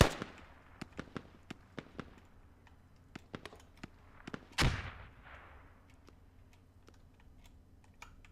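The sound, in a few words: rocket explosions in a video game match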